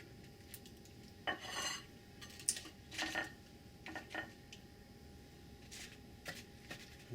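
Beef taquitos are set onto a dish with soft intermittent clinks and scrapes of utensils against the plate, quiet and close, in short irregular bursts.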